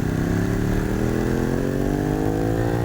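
Heard on board a Ducati 916 motorcycle at the Isle of Man TT, the engine roars loud and close, pitch rising steadily under acceleration with no break.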